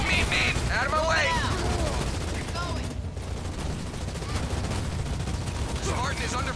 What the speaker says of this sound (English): 130 receiving fire from ground troops